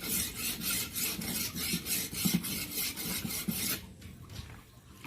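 A slaughter knife blade is stroked along a sharpening stone: close, raspy scraping strokes repeat in a quick steady rhythm for nearly four seconds, then give way to a faint quiet scrape.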